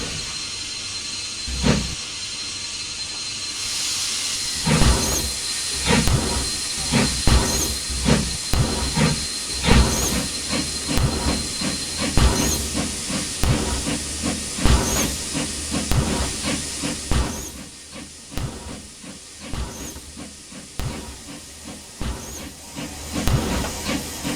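Steady steam hiss with rhythmic chuffing pulses from a 4-6-0 steam locomotive in Trainz Railroad Simulator, fairly loud throughout, easing off toward the end, no talking.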